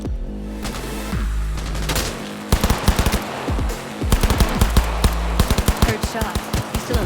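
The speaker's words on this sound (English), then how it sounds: "Heard shots." Bursts of automatic gunfire and single shots ring out in a Cyberpunk 2077 firefight, loud and close, with a steady music or ambient bed underneath and sharp repeated reports toward the end.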